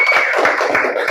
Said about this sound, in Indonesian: Boleh kita kasih aplaus tepuk tangan buat anak yang pintar